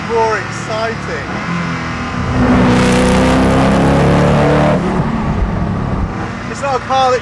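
Koenigsegg Agera R engine roaring loudly from inside the car, a harsh sustained rev building to a peak in the middle, with someone talking over it before and after.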